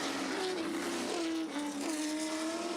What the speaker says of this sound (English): Very, very rare race car, this Talon MR1